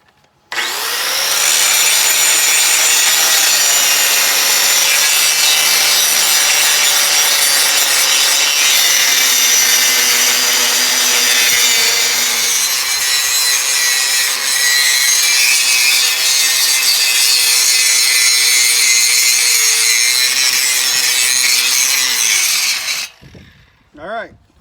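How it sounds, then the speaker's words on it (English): An angle grinder cleaning up welds on a tractor frame being modified to fit a gravity box, with a loud, steady whine and grinding rasp running continuously for over twenty seconds before it spins down. "So now we're going to take the grinder"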